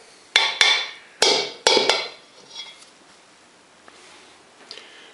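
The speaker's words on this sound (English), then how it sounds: "then what you do is scrape down the sides of the bowl as best you can and leave this in the middle" A utensil scrapes and knocks against the sides of a bowl of English muffin dough, making a quick burst of sharp, close clinks that gives way to softer rustling.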